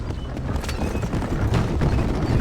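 Horses' hooves clip-clop in a quick trotting rhythm in the video game Red Dead Redemption, several animals close by, with faint harness rattle and no speech.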